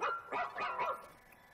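A robot dog companion in the video game ReCore barks three or four quick, slightly synthetic yaps in a short run, fairly close and clear with no talk over it.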